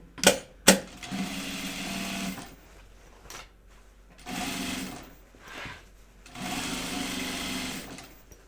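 A sewing machine top stitches along the top edge of a fabric bag prototype in three steady bursts, each a couple of seconds long, separated by short pauses and a few clicks and handling noises, loud and close.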